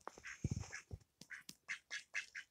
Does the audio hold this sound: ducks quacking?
yes